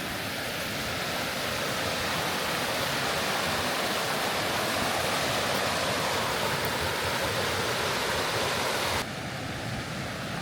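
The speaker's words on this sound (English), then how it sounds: "Some good rapids here." Rapids of a rough, rocky stream in a canyon trail, a loud steady rushing roar of churning water that fills the whole stretch without letup.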